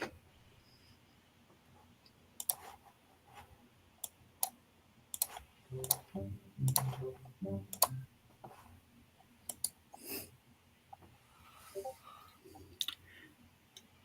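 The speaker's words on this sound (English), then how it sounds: "What is Mr. White typing?" Keyboard typing heard as sparse, sharp clicks scattered through a quiet room, some in quick clusters, faint and close with a little background noise.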